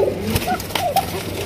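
A Shalik koka pigeon gives a few short, soft coos over a quiet room, fairly close, with faint background noise between the calls.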